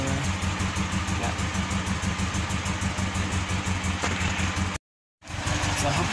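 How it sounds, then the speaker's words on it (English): A noisy car engine idling nearby in a garage setting, a close, steady pulsing rumble with rhythmic low throb, cutting out abruptly for half a second before resuming. "apologies for this noisy car right here"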